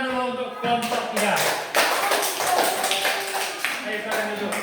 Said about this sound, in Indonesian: Kasih tepuk tangan dulu untuk kelompok 3.